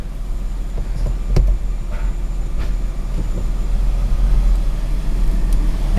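A 2001 Audi B5 S4 with turbos drives along, its engine a steady, loud low rumble and drone close up, with road noise underneath and a slight swell partway through.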